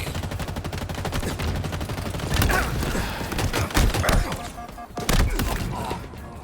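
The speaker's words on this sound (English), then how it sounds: "So it seems like every few shots I'm firing a blank." Rapid gunfire in a shooting video game, a steady stream of sharp shots in quick succession with a few heavier thumping bursts mixed in, loud and close, occasionally faltering.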